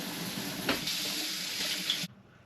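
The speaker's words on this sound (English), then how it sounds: "give it a rinse through" Water runs from a kitchen tap to rinse a homebrew airlock, a steady splashing hiss with a small knock near the start, cutting off abruptly before the end.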